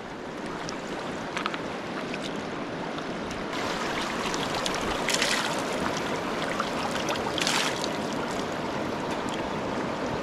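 The Jhelum River, carrying Neelum River water, rushes and gurgles continuously nearby in Azad Kashmir, a broad steady flow with occasional brighter splashes and no talking.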